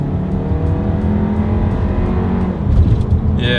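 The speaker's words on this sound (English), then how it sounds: "let's see how quickly we can get this new 2020 Volkswagen Tiguan here up to speed" A 2020 Volkswagen Tiguan pulls hard from a rolling start, its turbocharged four-cylinder engine droning and rising in pitch, loud and close from inside, growing louder near the end with no talk.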